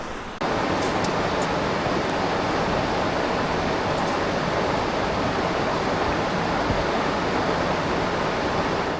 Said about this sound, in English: The river roaring beside me is the Swift River.